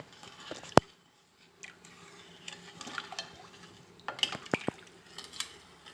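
Someone stirs 750 grams of sugar into strained beetroot juice for homemade wine. A spoon clinks and scrapes against the vessel in sparse, quiet knocks, with a few sharper taps near the end.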